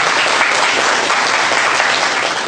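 Dense, steady applause from an audience at a Songkhla amateur radio association gathering fills the whole stretch, loud and close, with no speech over it.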